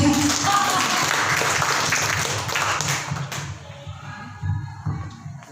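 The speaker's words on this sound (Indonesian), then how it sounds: "Kasih tepuk tangan buat Tuhan." Church congregation applause fills the space with dense, loud clapping for about three seconds, then thins into scattered claps and shuffling as it dies away.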